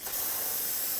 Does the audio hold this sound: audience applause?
no